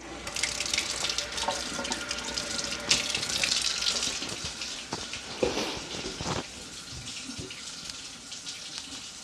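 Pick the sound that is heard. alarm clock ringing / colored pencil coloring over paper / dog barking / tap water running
tap water running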